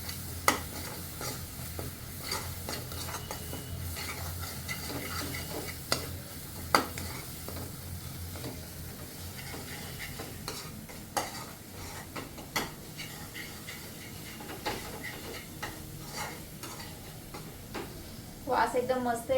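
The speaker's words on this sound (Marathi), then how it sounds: "जे मसाले आहेत ते आपण ह्याच्यामध्ये टाकून घेऊयात" Spices with asafoetida and turmeric sizzle in hot oil while a spoon stirs the pan for a mixed vegetable bhaji, a steady soft frying hiss broken by scattered clicks and scrapes.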